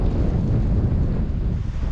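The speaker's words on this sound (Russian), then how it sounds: "Ветрище вообще капитальный поднялся" Strong wind roars steadily over winter lake ice, buffeting a microphone with dense low rumble for the whole stretch, no voices heard.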